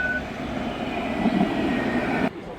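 A steady rumbling hum of an electric tram rolling past on a street in Casablanca, Morocco, with faint squealing tones, ending abruptly.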